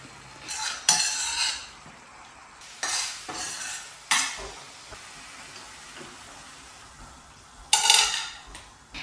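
A pot of dal with turmeric, garam masala, green chili paste, jaggery, tamarind pulp, grated coconut and coriander leaves is stirred in several separate bursts of close scraping and sloshing with quiet gaps between.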